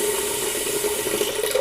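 Tap water runs steadily into a sink, a continuous close hiss of flowing water with no voices.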